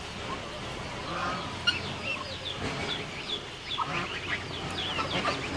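Two young goslings call in rapid high chirping peeps, repeated and fairly close, over a low steady background hum.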